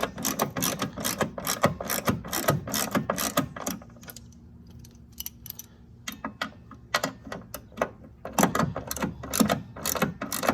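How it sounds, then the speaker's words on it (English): A 17 millimeter ratchet snugs down bolts on a Porsche 911 rear spring plate cover, fast clicking bursts close up, pausing briefly mid-way before the rapid pawl ticking resumes. "let's get in there with our 17 millimeter ratchet, and let's get those snug down"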